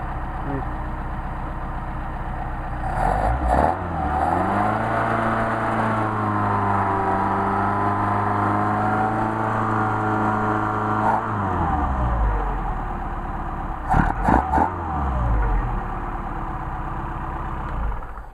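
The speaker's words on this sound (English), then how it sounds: "So we got a nice smooth running engine, and now let's have fun." A car engine with a Solex carburettor idles, then revs up and holds a higher pitch for several seconds before dropping back to idle, with a few clicks and bumps nearby.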